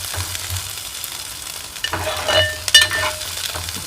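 Curry leaves and whole peeled small onions sizzle in oil as they are stirred, a continuous frying hiss with a few louder scraping and clinking spoon strokes against the pan midway through.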